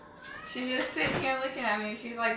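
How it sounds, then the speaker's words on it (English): A pet cat named Athena meows loudly and close by in a home kitchen while a snack is being made, her drawn-out, pitch-bending cries carrying over someone talking. "I'm sorry for my cat. She gets on my last nerves with her meowing."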